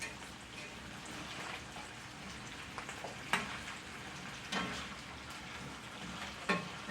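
Sliced potatoes and onions fry in a pan, a continuous soft crackling sizzle with scattered louder pops and stirring scrapes, fairly quiet and close.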